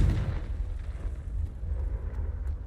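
Confringo explosion spell in Hogwarts Legacy, heard as a loud, deep rumbling blast that sustains with a roaring low-end tail throughout.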